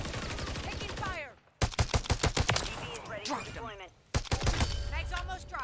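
Gunfire in the video game Modern Warfare 3 from a two-shot DM56 weapon: bursts of sharp shots in two groups separated by brief gaps, loud and close, with game voices and effects mixed in.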